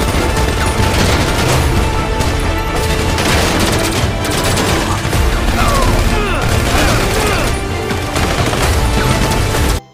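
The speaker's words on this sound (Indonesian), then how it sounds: "Yang ini ada mainan tembak-tembakan teman-teman." A toy gun fires electronic shooting sound effects, dense rapid bursts of machine-gun rattle and booms that continue loudly and without pause for the whole stretch.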